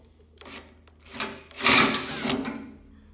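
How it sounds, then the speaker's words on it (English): Grinding, rasping 7/32 drill bit drilling out a stuck bolt in a car, starting in short bursts and then a louder sustained stretch, close by with no talking. "It just drilled the rest of the bolt through there."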